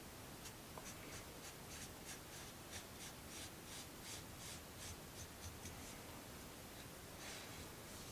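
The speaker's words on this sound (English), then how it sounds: "Didn't do a good enough job of sanding on that one." Sandpaper rubs over a small wooden part of a Rolife arcade book nook kit, a quiet series of short dry scratching strokes in a loose regular rhythm, close and faint, with no talking.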